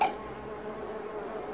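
A steady, droning insect buzz, close and continuous, like a bee hovering nearby, with no other sounds over it.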